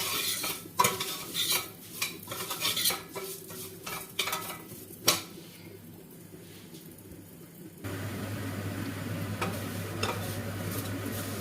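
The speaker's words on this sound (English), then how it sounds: "vermicelli noodles, if you like, and toast them until they turn golden brown" Vermicelli noodles are toasted and stirred in a pan until golden brown, with a utensil scraping and clinking against the metal in irregular strokes over a low sizzle. A steadier hum of frying takes over near the end.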